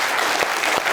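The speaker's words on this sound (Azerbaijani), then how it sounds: "Bu alqışlar da bir özünüz üçün." A theater audience claps at the end of a concert, a brief, loud, close burst of dense applause with a couple of sharper individual claps standing out.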